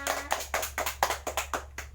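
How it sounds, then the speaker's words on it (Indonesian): Classroom clapping: about eight sharp, evenly spaced claps in quick rhythm, close and fairly quiet, with no talk. "Tepuk tangan untuk semuanya."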